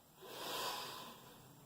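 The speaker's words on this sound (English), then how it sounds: "First of all, just sniff it." A person sniffing a cup of steeped Russian Caravan black tea, one soft, drawn-out close inhale that swells and fades, quiet and alone.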